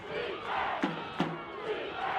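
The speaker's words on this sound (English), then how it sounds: "Farmingdale crowd on their feet." A stadium crowd of Farmingdale high school football fans roars and cheers on their feet during a championship game, a steady broad wash of voices with two sharp shouts cutting through the middle.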